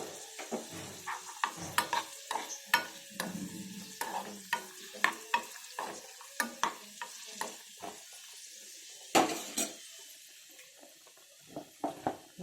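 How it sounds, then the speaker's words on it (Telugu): Payasam, a sweet South Indian pudding, simmering in a pan on the stove while a spoon scrapes and stirs it in repeated short strokes over a soft bubbling sizzle, close and clear. "ఇది ఉడుకుతుందండి"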